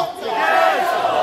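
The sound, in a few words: crowd shouting a slogan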